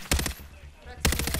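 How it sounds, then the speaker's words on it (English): Two bursts of rapid automatic gunfire in the video game Warzone, each a tight rattle of several shots separated by a short lull, loud and close. "I'm getting shot at somewhere"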